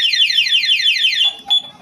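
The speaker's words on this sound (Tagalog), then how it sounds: "Pag ito pinindot nyo, mamamatay yung motor, mag-a-alarm yung motor." A two-way anti-theft alarm on a TMX Supremo motorcycle wails loud and close in rapid repeating electronic sweeps, then cuts off into a few short chirps.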